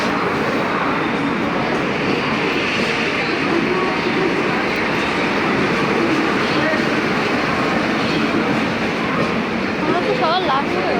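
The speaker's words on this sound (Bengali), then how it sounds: "দেখো আমাদের ট্রেন এসে গিয়েছে" A train arrives at Panvel station with a steady loud rumble and rolling wheel noise throughout, close by, while people talk underneath the roar.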